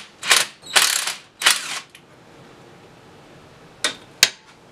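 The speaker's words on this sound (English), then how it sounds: "I'm going to use our just simple wrenches to get everything loosened up" A hand wrench ratchets and clanks while loosening a nut on a Jeep Dana 20 transfer case, with three bursts of ratcheting clicks close together, a pause, then two short sharp clicks.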